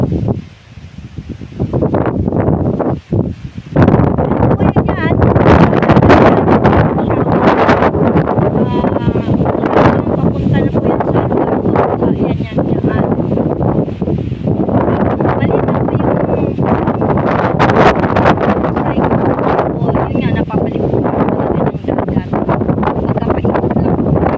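Strong, steady wind buffets the microphone on a mountain top beside a horizontal electric pole, a loud continuous roar with gusty surges and rustling, and a voice speaks briefly over it.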